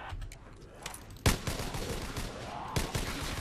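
M1A1 carbine fire in Black Ops 3, with a steady run of rapid shots under game noise and two sharper, louder reports standing out, one near the start and one near the end.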